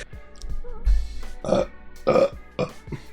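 A man lets out a series of loud, deep burps close to the microphone, roughly three guttural bursts spaced about half a second apart, with nothing else heard around them.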